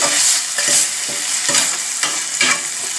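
Garlic and ginger frying in a pan for Indian gravy, a loud close sizzle pulsing in regular bursts about every half second as the spoon stirs, no voices.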